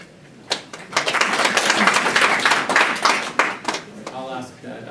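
A burst of audience clapping breaks out at a county commissioners meeting, swelling quickly into a loud, close patter of hands for a few seconds before thinning out as a voice begins to speak.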